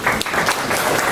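A comedy-night audience imitates a golf crowd with a brief, polite burst of clapping, dense but restrained, lasting about a second.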